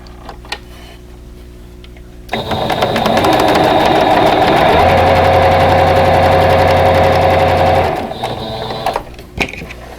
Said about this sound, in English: we're going to turn it around and sew the eye unit to the other side